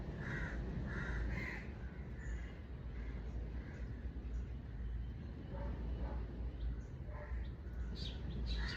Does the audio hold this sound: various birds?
yes